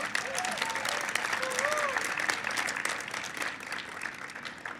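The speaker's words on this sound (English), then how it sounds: "let's give her a big round of applause" Audience applause at an evening fundraiser soiree, sustained and dense clapping from a crowd with faint voices and a few whoops mixed in, steady across the whole stretch.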